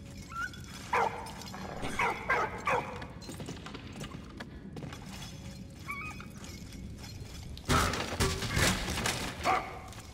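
Dog in the Valiant Hearts: The Great War game, giving short barks and whimpers in bursts amid crashing, clattering game effects and a busy background, moderately loud and close with no voices.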